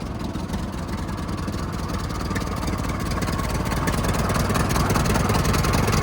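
A 1942 IH T9 Trackson swing-crane tractor engine runs steadily at a loud, even idle, a dense continuous rumble with no voices over it.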